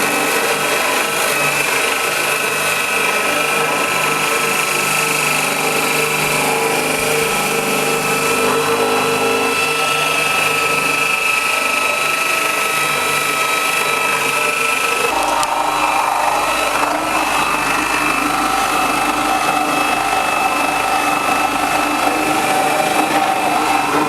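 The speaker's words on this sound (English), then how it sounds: "We're going to be using the Scarab, which has been designed specifically for hard to reach areas, little corners, staircases and things like that." A Scarab deck refinishing machine works cedar stairs, its motor whining and grinding loud and unbroken throughout, with a slight shift in tone partway through as the head moves across the wood.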